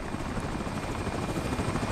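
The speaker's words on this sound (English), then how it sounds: "Wow, is that a helicopter after me?" A helicopter in the video game American Arcadia drones overhead, a steady close rotor and engine whir that runs unbroken and alone.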